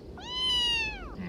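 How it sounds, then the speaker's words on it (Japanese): One cat meows once, a drawn-out, fairly quiet call rising then falling, heard alone with no talking. "そこの君、可愛い猫を連れているね。"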